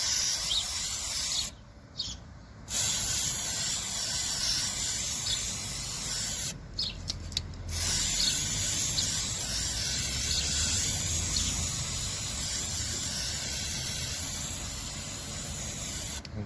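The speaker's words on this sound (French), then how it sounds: "Donc là c'est de la bombe d'après." Spray paint can applying undercoat to a surface, a loud close hiss in long continuous bursts separated by two short pauses.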